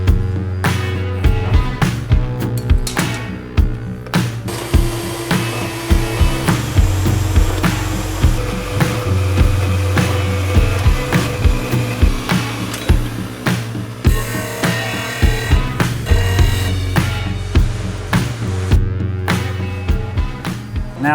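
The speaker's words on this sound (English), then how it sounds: "And then cut it at the bandsaw." A bandsaw cuts through metal stock for deck chair frames, a loud continuous grinding whine with a pulsing, rhythmic texture that holds steady for the whole stretch.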